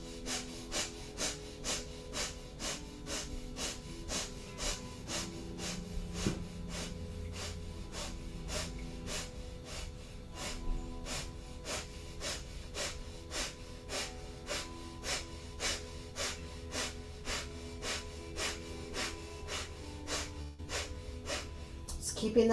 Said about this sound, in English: we'll begin breath of fire or long deep breathing